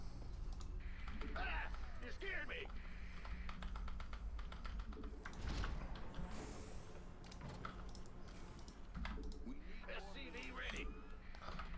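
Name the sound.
typing on cheap PC World own-brand keyboard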